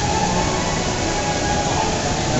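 A train at a Tokyo station gives a steady, loud rumble with a broad roar and a faint high whine, continuous and close throughout, with no talk.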